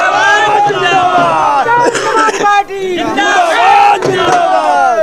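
Dense crowd at a Delhi election rally in Patel Nagar cheering, whooping and clapping loudly and continuously, with raised shouting voices swelling and dipping over several seconds.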